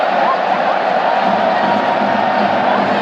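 A large stadium crowd at a rugby league match during a Mexican wave, a continuous loud roar of cheering and babble from all around, with voices talking over it.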